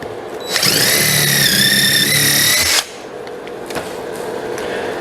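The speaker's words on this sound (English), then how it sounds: "And these little brass fittings, I drill a pilot hole." A high-pitched drill whines steadily for about two seconds as it drills a pilot hole in a small brass fitting, then cuts off, leaving faint workshop noise.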